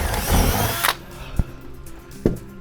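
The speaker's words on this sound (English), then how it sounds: "I'm gonna drill some holes" A power drill boring holes, a whirring burst at the start that stops abruptly, followed by a few sharp knocks and clicks in a quiet room.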